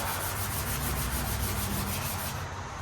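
Steady back-and-forth sanding on a motorcycle part, a Tangerine Kandy Road Glide piece being prepped for primer and paint, with continuous close scraping strokes that ease off at the end.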